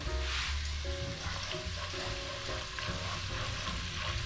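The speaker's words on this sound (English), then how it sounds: "We're gonna add to the oil a 1/4 of red onion." Chopped red onion frying in oil over medium heat for Nigerian jollof rice, giving a steady, soft crackling sizzle close by, with occasional faint stirring and no talk.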